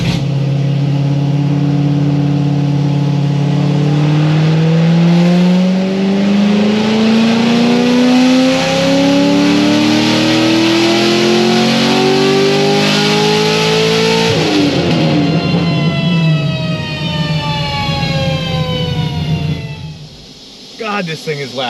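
A straight-piped Stage 4 Corvette Z06 revs loudly and close, its pitch climbing steadily through a long pull before dropping off and sputtering, with voices partly audible beneath the roar.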